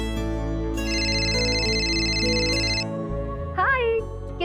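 A telephone rings in a household with a sustained electronic ringtone that holds steadily for a few seconds and then cuts off, with background music underneath and a brief vocal sound near the end.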